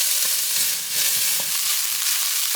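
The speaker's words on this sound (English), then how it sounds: "So I'm just gonna saute my shallots and ginger first." Shallots and ginger sauté in hot oil, a steady close sizzle with a few soft crackles and stirring scrapes, with no voices.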